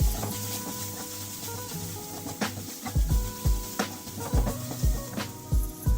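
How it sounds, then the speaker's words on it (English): Fried onions with salt and turmeric powder being stirred in a pan for home-style egg biryani, a steady sizzle broken by rhythmic scraping stirs of a spoon, close and fairly loud. "Give it a good mix."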